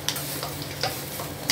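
Dinengdeng, an Ilocano vegetable stew with bagoong, being stirred in a pot as it returns to a boil, with a steady low bubbling bed and a few soft scraping knocks of the spoon.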